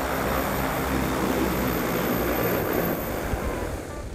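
Garuda GD25 agricultural drone landing automatically, a loud steady whirring rotor hum that holds evenly and then eases slightly near the end, heard alone without talk.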